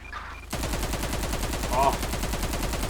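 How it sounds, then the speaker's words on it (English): Rapid automatic AK rifle fire in GTA 5, a loud continuous burst of evenly spaced shots following a brief quiet lead-in, close and dominant throughout. "Oh, that AK sound is so nuts."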